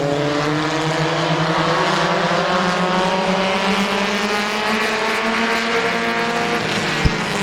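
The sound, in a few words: race cars racing at start of speedway heat race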